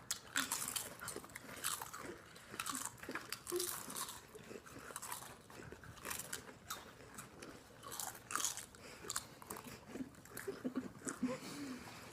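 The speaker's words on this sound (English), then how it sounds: "this challenge is who can finish the bowl of spicy nacho Doritos the fastest" Spicy nacho Doritos being eaten fast in a speed-eating contest, with constant loud crunching and chewing close to the mic and brief sounds of people in the background.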